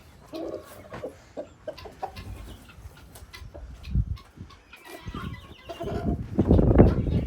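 Chickens cluck and murmur close by in short, scattered bursts, with some scratching and rustling, growing louder toward the end.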